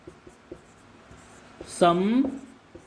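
A pen or pencil writes on paper in short, faint scratching taps, with a brief spoken word cutting in near the end.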